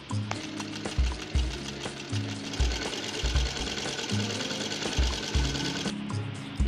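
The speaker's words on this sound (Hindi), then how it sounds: "पिन अप करने के बाद हम राउंड में सिलाई लगाएंगे" A sewing machine stitches around the neckline of a ladies' suit, a loud, close, rapid mechanical chatter running almost continuously with a brief pause near the end.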